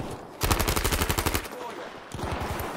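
Rapid automatic gunfire in the video game Battlefield 5, a loud, close burst of about a dozen evenly spaced shots, a brief pause, then a second burst starting.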